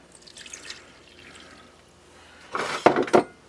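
Water pours into crepe batter mix in a kitchen, starting as faint trickles and ending in a louder, close splashing pour with a few drips near the end.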